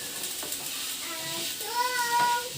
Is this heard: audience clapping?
no